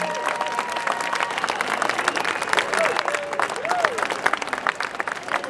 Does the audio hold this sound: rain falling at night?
no